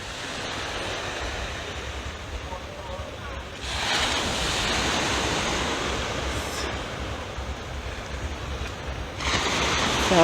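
Post-storm sea swells and surf roll onto the beach at Pebbles, Bay Street and Carlisle Beach, a loud wash of breaking waves that builds and recedes in long surges, with wind buffeting the microphone and no voices.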